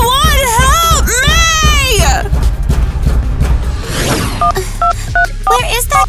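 Telephone keypad tones beep in a quick series of short, even notes, following a wailing, crying voice in a doll-family drama scene.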